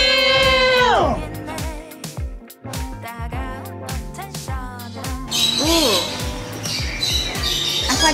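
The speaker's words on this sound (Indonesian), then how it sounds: "Tengok burung-burung." Birds squawk loudly at a butterfly park in Melaka, a dense run of harsh calls and chirps layered over ambient noise and occasional voices in the background.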